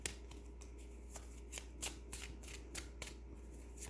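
A deck of tarot cards being shuffled by hand: quiet, soft riffling and snapping of cards in irregular bursts over a low steady hum, without talk.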